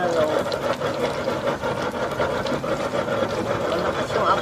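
A blower fanning an outdoor cooking fire, a continuous whirring, rushing drone with a fluttering motor texture, fairly close and steady throughout.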